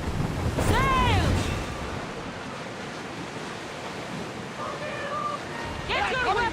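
Ship sailing at sea in Assassin's Creed Odyssey, with steady wind and wave wash throughout, a gliding pitched cry early and more chirpy calls near the end, and voices speaking over it.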